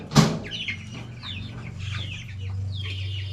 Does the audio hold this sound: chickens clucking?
yes